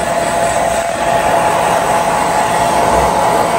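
Blower drying a freshly cleaned couch at home, a loud, steady rushing whoosh of air that holds constant throughout, close by, with no talking.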